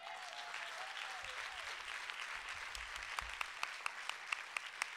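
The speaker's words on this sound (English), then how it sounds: "I love how you all are clapping." An audience at an honoring ceremony claps continuously at moderate distance, with a few louder individual claps standing out near the end and faint background voices underneath.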